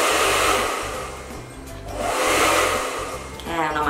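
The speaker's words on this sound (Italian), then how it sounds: "questo è il mio phon, ma un semplice phon, questo è di Roventa, Silence Act" A Rowenta Silence Act hair dryer runs close and loud, a continuous airy whoosh with a low motor hum that swells and eases as it is moved around.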